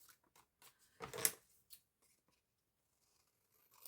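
Single close snip of scissors cutting paper, a short crisp burst in otherwise quiet surroundings, with faint rustles after.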